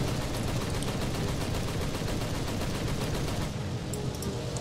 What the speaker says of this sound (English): Artillery done.